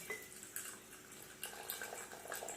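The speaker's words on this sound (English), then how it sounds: "I'm going to add 75 grams of water and 75 grams of flour." Water poured into a sourdough starter jar while measuring on a kitchen scale, a soft continuous trickle with faint drips and clinks, quiet and close, no voices.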